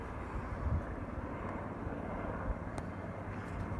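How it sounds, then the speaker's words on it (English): Helicopters flying overhead at dusk, a steady distant low rotor and engine drone that holds fairly even throughout with no talk. "Now there's all these helicopters."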